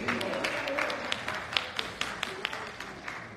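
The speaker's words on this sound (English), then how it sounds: "Somebody clap your hands and tell God, thank you." Church congregation clapping hands during a worship service, a scattered run of sharp claps of uneven rhythm over a steady room murmur, moderately near and fairly quiet.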